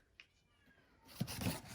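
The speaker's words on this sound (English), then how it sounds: "And that's my cat, Peter." A cat meows close by, a soft short call early on followed by a louder, drawn-out meow in the second half against a quiet indoor background.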